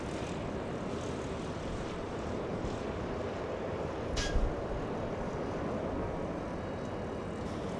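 A SkyWest regional jet taxiing at Los Angeles International Airport gives a steady, moderate engine rumble and hiss, with a brief louder swell near the middle and no talk.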